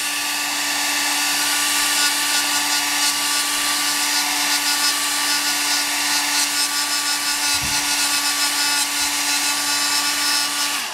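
Heat gun blowing hot air to loosen epoxy on a motorcycle handlebar riser spacer, a loud steady whooshing hum with a constant tone, running unbroken throughout.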